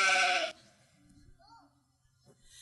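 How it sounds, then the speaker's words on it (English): A sheep bleats once, loud and close, in a short burst at the start, followed by quiet background with faint scattered sounds. "There were mostly just sheep."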